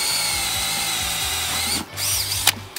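A power drill whines steadily at close range, its motor pitch shifting as it bores about 1.5 inches into a maple tree, then briefly stops and starts again.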